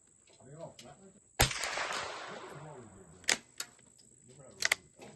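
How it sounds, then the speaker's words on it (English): A Browning T-Bolt T2 .22 rifle fires a single sharp, loud shot at scraps of a target, with a lingering crack and tail, then a few quieter snaps follow; a person talks before and briefly after. "now I'm shooting the scraps that I just exploded"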